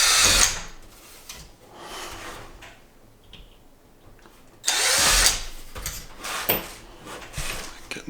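Power drill driving a screw into a Commodore 64 case, with close whirring bursts at the start and around the middle separated by quieter handling noises, with speech also present.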